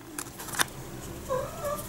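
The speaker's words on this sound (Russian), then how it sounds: "Пришел кот." A house cat begging near a kitchen where chocolate is being made gives a couple of short meows, close and moderately loud, with small clicks and handling noises nearby.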